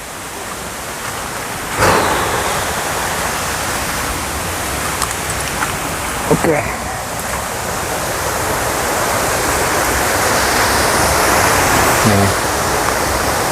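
A waterfall and clear river at Curug Paniis in Pandeglang rush in a loud, unbroken roar, with a few brief spoken words and some knocks over the water noise.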